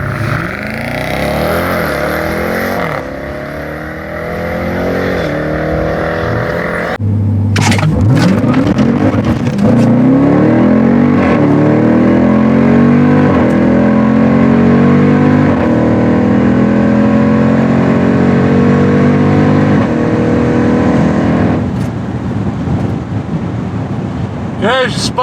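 A Jeep Trackhawk launches at a drag strip, its engine roaring loud and close with a rising pitch as it accelerates hard. The roar holds steady for most of the run, and a voice is heard under the engine noise.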